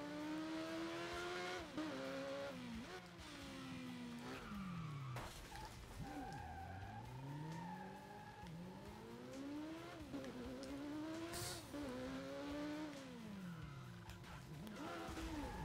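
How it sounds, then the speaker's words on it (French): A car in the racing game Burnout Paradise spins its tires in continuous burnouts, engine revving up and down in repeated sweeps over squealing, skidding tires for the whole stretch. "je vais faire des burns avec"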